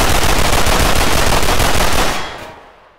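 Sustained machine gun burst in the video game Garry's Mod, loud and close, a dense rapid stream of shots for about two seconds that then stops and fades out.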